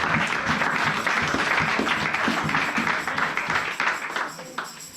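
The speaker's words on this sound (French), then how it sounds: "Acclame très fort Jésus." A church congregation applauding together, a dense, steady wash of clapping from many hands that holds for several seconds, then thins and fades toward the end.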